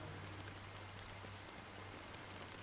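Fine drizzling rain falls in the video game Honkai Star Rail, a soft, continuous patter that stays faint and even throughout, with no voices.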